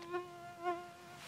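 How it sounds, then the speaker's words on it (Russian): A mosquito buzzes close by in a forest, its thin whine swelling twice as it passes near and then drifting off, faint and alone with no talk. "комар жужжал, в камеру летал"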